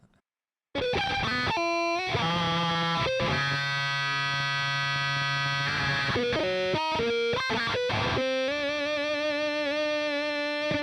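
A heavily distorted instrument plays sustained buzzing notes and chords continuously, loud and harsh, with no talking.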